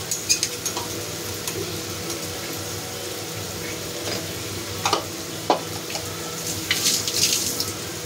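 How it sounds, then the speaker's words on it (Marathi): Green chilli thecha fries on low heat in a pan, a steady soft sizzle broken by clinking stirs and scrapes of the utensil, with a few sharper knocks toward the end. "स्लो गॅसवर त्याला फ्राय करून घ्यायचं"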